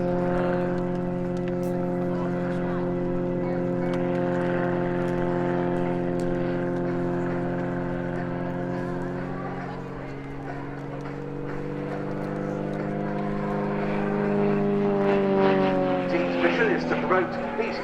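de Havilland Dove twin propeller aircraft flying at the RIAT air show, a steady droning engine hum with layered tones that shifts in pitch as it passes, heard under an announcer's talk.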